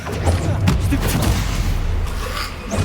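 A Stupefy spell cast in the Hogwarts Legacy video game, heard as dense, sustained combat blasts and booming impacts running continuously, with several sharp bursts standing out.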